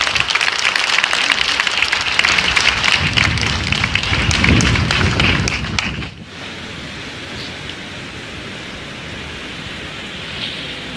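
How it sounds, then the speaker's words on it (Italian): A crowd at an outdoor memorial march keeps up dense, loud applause that abruptly thins into quieter background noise partway through. "con un saluto culminato in un lungo e toccante applauso"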